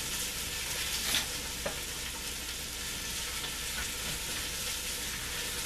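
Peppers frying in a pot for homemade chili give a steady, broad sizzle, with occasional light scrapes and knocks of stirring; no voices, close and even throughout.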